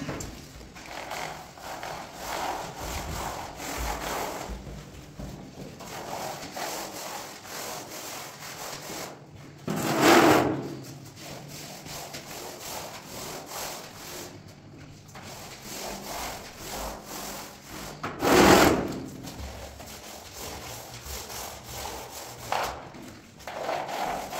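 A brush rubs primer across a floor in continuous scraping strokes, close and moderately loud. Two heavier swipes stand out along the way, with no talking.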